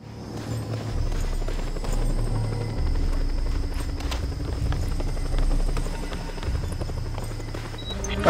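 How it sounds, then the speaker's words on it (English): A helicopter in the video game Just Cause 2 approaches with a steady, loud rotor thrum and engine whine that holds for several seconds, with no talk over it. "A chopper!"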